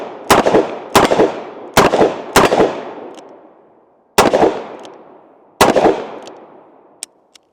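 Gunshots from a revolver fitted with a Midwest Industries revolver brace, six loud sharp cracks, some in quick pairs, each followed by a rolling outdoor echo. Faint clicks come near the end.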